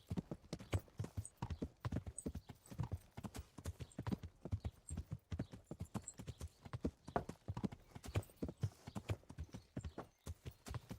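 Horse hooves clip-clop at a steady trotting rhythm through the medieval countryside of the video game Kingdom Come: Deliverance, a continuous close, fairly quiet beat with a faint whinny-like note.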